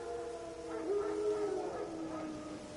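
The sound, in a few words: wild dogs howling in The Witcher 3 video game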